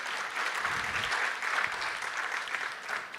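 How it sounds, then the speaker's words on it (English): A conference audience at a national parole review summit gives another round of applause, a steady mass of clapping at moderate volume that stays even throughout. "Can we please give them another round of applause?"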